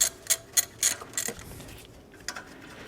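A ratchet on an extension loosening a bolt on a Toyota 2.2L 5S-FE engine in a Camry, four quick sharp clicking pulls followed by a softer pause and a last faint click.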